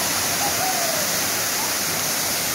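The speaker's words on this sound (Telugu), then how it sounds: "this is the biggest waterfall here, గండహతి waterfall" Gandahathi waterfall in Gajapati district, Odisha, gives a loud, steady, close roar of rushing water that continues unbroken without any other sound.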